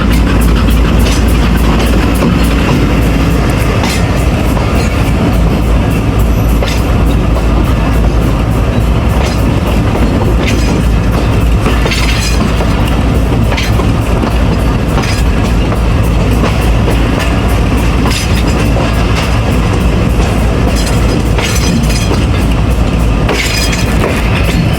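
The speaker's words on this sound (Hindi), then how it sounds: "तो ये ट्रेन हैं जो हमें अभी रास्ते में क्रॉस पड़ेगा" A train on the Multan to Lahore line, heard from aboard the Karachi Express, gives a loud, continuous rolling rumble with rhythmic wheel clatter and occasional squeals throughout.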